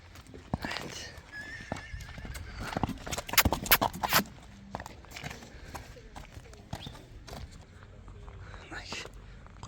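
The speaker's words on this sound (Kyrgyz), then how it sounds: "Туяктары өзүп кетиптир, жылкынын." A horse with overgrown hooves clip-clops steadily at a walk, with a loud whinny partway through and voices talking nearby.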